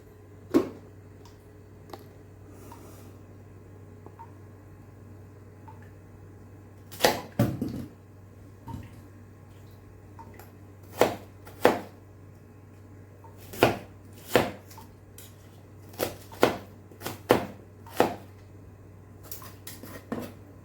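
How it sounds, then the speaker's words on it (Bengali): Sharp irregular chopping clicks from a hand-pulled organizer chopper cutting vegetables, no electricity needed, arriving in scattered bursts over a low steady hum, sparse at first then quickening toward the end. "এই যে এটা হচ্ছে অর্গানাইজার চপার। এটা হচ্ছে আপনার ইলেকট্রিক লাগে না"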